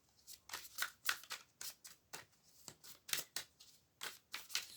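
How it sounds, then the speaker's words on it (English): Tarot cards are shuffled by hand in quick bursts of crisp, papery riffles, a dozen or so sharp flurries in an uneven rhythm, close and fairly quiet with no talking. "I'm giving them a good shuffle"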